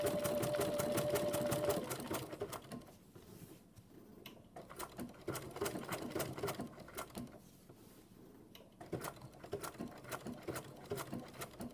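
A sewing machine stitches an applique with fast, rhythmic needle clatter in close bursts, pausing briefly between runs of stitching.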